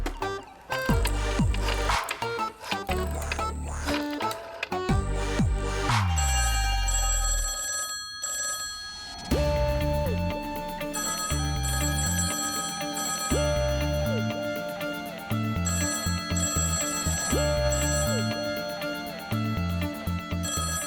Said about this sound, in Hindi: कोई फोन तो उठाओ